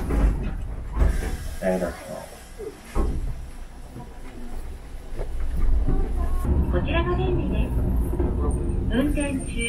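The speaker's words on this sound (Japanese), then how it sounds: "チンチン電車に乗って、大海道までやってきました" Steady rumble and hiss inside a streetcar riding through Dogo, Matsuyama, with people talking over the rolling noise.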